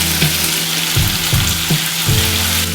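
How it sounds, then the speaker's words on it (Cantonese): Pork ribs deep-frying in hot oil for sweet and sour pork give a steady, loud crackling sizzle, with a few sharper pops and bubbling bursts recurring through it. "佢炸到差唔多好嘅時候呢，嗰啲聲音呢係喳喳聲，你聽落去好清脆咁樣"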